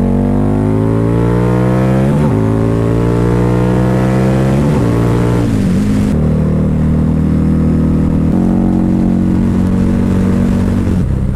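Liquid-cooled Harley-Davidson V-Rod motorcycle from the 2002 era, its engine roaring loudly while riding as it climbs repeatedly through the gears with rising pitch sweeps and brief dips at each shift.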